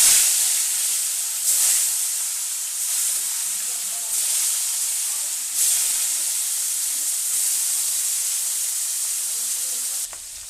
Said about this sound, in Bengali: এবার মাছটা ভালোভাবে ভেজে নেবো এপিট ওপিট করে